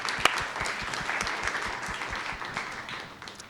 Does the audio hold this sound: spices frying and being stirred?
no